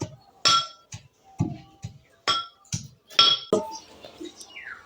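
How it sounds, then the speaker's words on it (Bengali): Pestle strikes in a mortar while coconut and ground rice flakes are mixed, a village kitchen sweet being prepared: a run of sharp, close knocks and clinks at an uneven rhythm, with short breathy sounds between hits. "আস্তে আস্তে হামানদিস্তার মধ্যে দিয়ে ছেড়বো আর মিশাবো"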